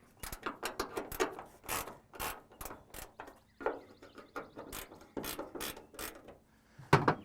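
A wrench ratcheting as it loosens a bolt on a car trunk lid, giving a string of sharp metallic clicks and rasps in uneven bursts, close and clear, with a louder clank near the end.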